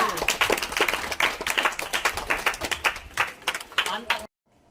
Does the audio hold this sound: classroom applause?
yes